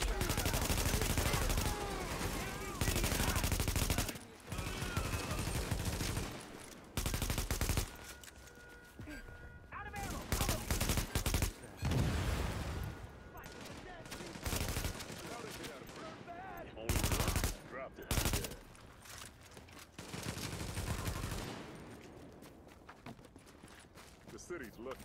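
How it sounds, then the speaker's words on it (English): Repeated gunfire in the shooter The Division as a civilian is hit, loud irregular bursts and single shots across the clip with voices talking in between. "I'm shooting a civilian."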